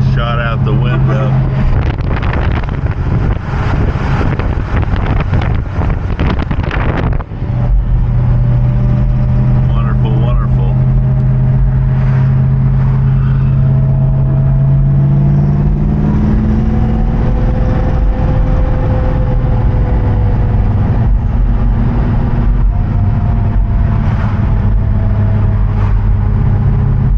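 A supercharged 1964 Studebaker Daytona R2 Super-Lark hardtop drones steadily from inside the cabin while driving, loud and continuous, with wind rush and a pitch that rises and shifts through gear changes.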